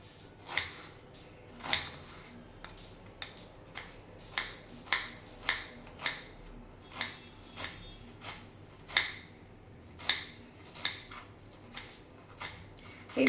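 Four onions being chopped finely with a knife on a board, sharp separate taps landing in an uneven rhythm about once a second, close and fairly crisp against a quiet background.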